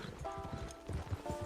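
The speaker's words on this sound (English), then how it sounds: "Get on the horse when you're ready." Horse hooves clip-clop at a steady trot through a short stretch of Red Dead Redemption 2, the muffled beats close and regular under soft background game music.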